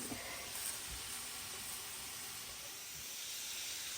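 Minced garlic sizzles in a Dutch oven with a steady, bright, hissing crackle that holds evenly throughout, fairly quiet and alone with no talking.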